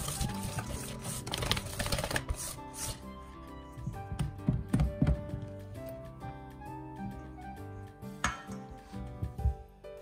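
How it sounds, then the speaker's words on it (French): A whisk beats melted chocolate, egg yolks and beaten egg whites in a bowl, making quick, irregular clinks and taps that are fairly faint. "vous allez ajouter 1/3 des blancs en neige et vous allez fouetter de façon énergique"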